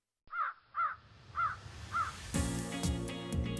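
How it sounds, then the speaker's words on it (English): A crow caws four times in a steady series, clear and fairly close, then a rumbling, clattering noise takes over. "flew towards the village, cawing louder than ever"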